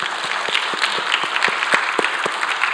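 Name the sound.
audience applause in church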